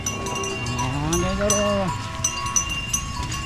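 Grazing cattle herded by tribal hill people give one long, loud moo that rises and falls near the listener, with outdoor background noise and a faint bell or clatter afterward.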